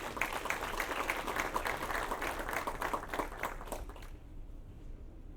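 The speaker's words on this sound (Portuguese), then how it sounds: "A todos estes 14 ex-presidentes merecem uma calorosa salva de palmas." Warm applause for fourteen former presidents at an AMUSUH board inauguration ceremony, a dense sustained patter of many hands that stops abruptly near the end, leaving quiet room tone.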